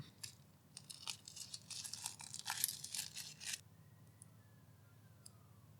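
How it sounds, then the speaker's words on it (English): A new Revelot Hexmariner dive watch is unwrapped from its packaging, giving a few seconds of soft crinkling and tearing of wrapping, faint and close, followed by quiet. "Let's go ahead and unwrap it."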